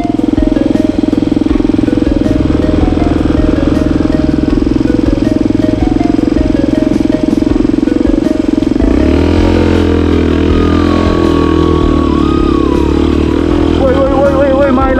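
Motorcycle engine idling steadily and loud at close range, with a rough running note that shifts partway through as a high whistling tone rises and falls over it.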